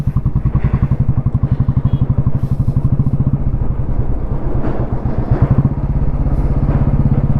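A motorcycle rolls across a big single-lane wooden bridge on the road to Ladakh near Thang. A loud, close engine thrums steadily under a rapid, rhythmic clatter of planks, with occasional heavier thumps.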